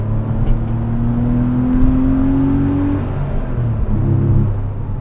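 A 1997 Porsche 993's air-cooled engine pulls hard from inside the car, its pitch climbing steadily through one gear, then dropping and rising again into the next, loud and close with no talk.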